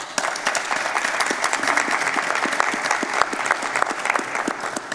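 Steady, dense applause from an audience after a deputation presentation, sustained and even throughout with many overlapping claps filling the room.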